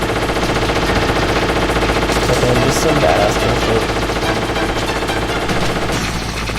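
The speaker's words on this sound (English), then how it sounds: "I've never just tried to duck the gunfire before." Rapid gunfire from the video game Metal Gear Solid rattles through a dense, loud mix of game sounds, sustained throughout while a player talks over it.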